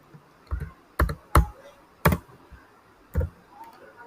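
Someone types Python test code on a computer keyboard, a handful of separate close key clicks spaced irregularly over a few seconds, with a quiet room around them and no talk.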